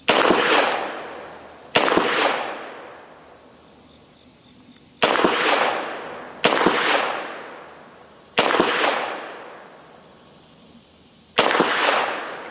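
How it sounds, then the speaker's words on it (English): Six sharp 9mm pistol shots from a Gforce Jawbone with a pistol brace, fired offhand at an outdoor range, each a loud crack with a ringing decay, spaced unevenly over several seconds, with insects faintly buzzing between. "we're going to do some offhand shooting here"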